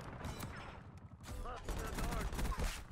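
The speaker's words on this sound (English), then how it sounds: "This pistol is so good." Pistol gunfire in Black Ops 6 amid a busy firefight, repeated sharp shots layered over dense background battle noise and other weapons, fairly loud throughout.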